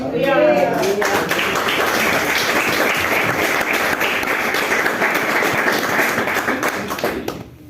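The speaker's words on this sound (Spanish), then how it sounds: "Le dé palmas a Dios" A church congregation claps together in a dense, loud burst of applause that runs steadily for several seconds and then tapers off, with brief voices near the start.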